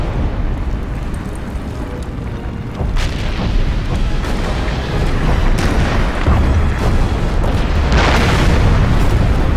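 Fortress blown up in the Medal of Honor video game, a loud, sustained rumbling explosion with heavy low booms that swell and build toward the end.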